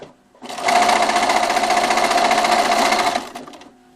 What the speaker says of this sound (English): I'm going to sew a little bit